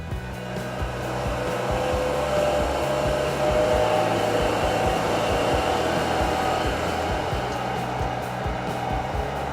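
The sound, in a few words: Wood-Mizer MP260 moulder feeding wood through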